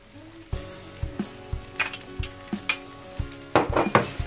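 Cup noodle fried rice with spring onion being stirred in a pan, a utensil knocking and scraping the metal in a steady rhythm of close, clear strikes over a soft sizzle, busier and louder toward the end.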